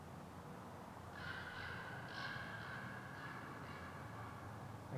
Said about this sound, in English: there's Jasper the Crow